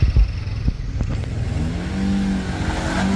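A truck engine labors while reversing on a steep rocky climb with its front wheels lifted off the ground, a low growl that swells and revs close by, with a few sharp knocks and a voice speaking briefly.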